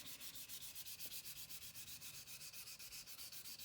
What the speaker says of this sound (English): You're just going to keep sanding like that